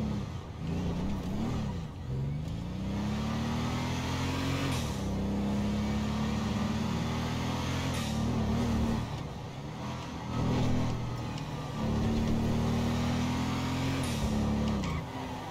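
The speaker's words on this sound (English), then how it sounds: "Hear them turbos." Cars in Grand Theft Auto V with turbos installed rev and accelerate, the engine pitch climbing repeatedly in steady rises and drops, punctuated by faint hissing spool and blow-off bursts over a continuous loud drone.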